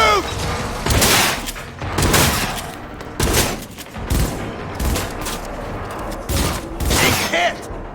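Loud gunfire in a firefight in the video game Cyberpunk 2077, heavy shots landing roughly every second in an uneven rhythm, each with a booming thump and ringing tail over continuous battle noise.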